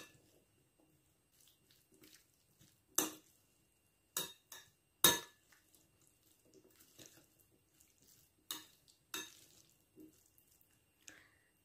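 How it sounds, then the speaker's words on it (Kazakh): Salad dressed with mayonnaise, egg white, greens and peas is stirred in a bowl, giving soft wet squishing and intermittent sharp clinks of a spoon on the dish, scattered irregularly and fairly quiet. "Жақсылап араластырып аламыз."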